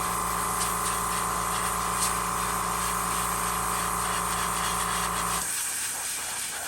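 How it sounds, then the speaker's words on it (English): An air compressor runs as a steady mechanical hum with a constant low drone and hiss for several seconds, then cuts out abruptly near the end, leaving quieter noise. "my compressor's gonna come on"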